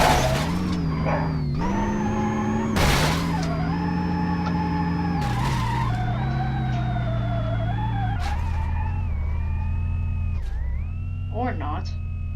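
In BeamNG.drive, a simulated car engine whines and revs through several gear-like pitch shifts as it launches off a ramp, with abrupt impact thumps and a closing rattle.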